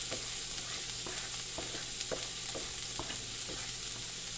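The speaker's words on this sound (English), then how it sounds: "I'm just going to add in some more onions along with some celery" Onions and celery sizzle in a hot pot with a steady, fairly quiet hiss broken by a regular series of soft stirring clicks.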